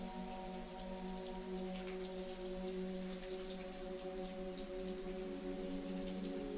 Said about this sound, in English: As the rain continued to pour outside